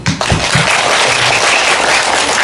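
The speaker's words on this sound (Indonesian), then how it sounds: "Oke, tepuk tangan" Audience applause from a crowd at an Indonesian gathering, opening with a few sharp claps and swelling into dense, loud, sustained clapping that carries on steadily without voices.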